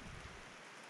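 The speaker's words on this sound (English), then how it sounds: "we got rain effects going" Rain falls in the video game Verge: Lost Chapter, a brief, faint, even hiss of steady rainfall with no voices.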